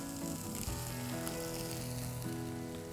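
Boiled cubed potatoes and green peas sizzle steadily in a hot pan of spices, a continuous close, loud frying hiss with occasional stirring clatter and no voices.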